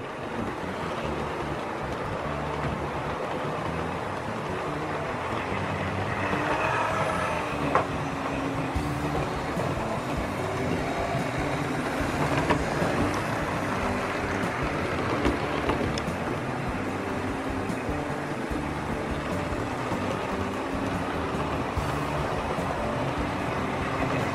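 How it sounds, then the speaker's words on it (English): Steady rumbling and clattering of model diesel multiple unit trains running continuously on track, with occasional faint clicks, no voices. "here we have two of the most iconic trains running together"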